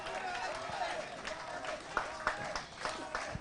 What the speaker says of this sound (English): Crowd really getting behind the players here.